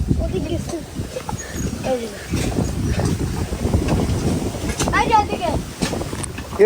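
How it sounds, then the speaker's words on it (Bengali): Wind buffets the microphone in low gusty rumbles while people talk over it outdoors in a village across a river. "সুন্দর বাতাস বাতাস এসে উড়াই নিয়ে যাইতেছে"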